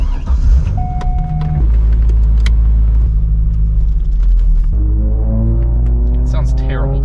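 Chevrolet Corvette C5 Z06 on new wheels and tires driving on the road, a loud low engine rumble with shifting drone and rising pitch as it accelerates, with talk inside the cabin.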